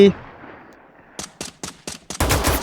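M14 rifle gunfire in the Free Fire mobile battle royale game: five sharp, evenly spaced shots ring out after a quiet lead-in, then a dense burst of louder gunfire closes the moment.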